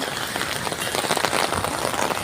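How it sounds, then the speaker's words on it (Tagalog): Heavy typhoon rain pours down on a flooded street in Makati City, a dense, continuous hiss of drops hitting surfaces close by, with no voices over it. "lumalakas na naman po yung ulan"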